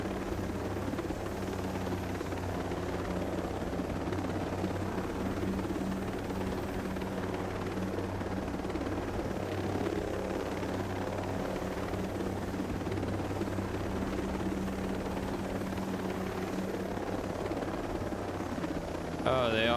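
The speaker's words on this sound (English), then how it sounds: "Oh, they already have a chopper." A helicopter's rotor drone holds steady and loud throughout a Ghost Recon Breakpoint game session, a continuous low chop with faint background sounds.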